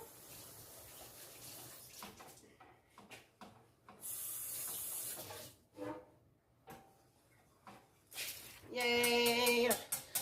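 Teaspoon rinsed under a running kitchen sink tap, water flowing in bursts with a steady spray in the middle and a louder gush near the end, with brief clinks and handling sounds between.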